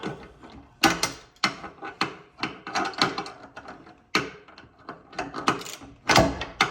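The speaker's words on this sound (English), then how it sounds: "on that 3/8 grade 8 bolt, I can crank down on it pretty good" A wrench cranks down hard on a 3/8 grade 8 bolt on a homemade speaker mount, giving a close run of sharp ratcheting clicks and metallic clatters in irregular bursts.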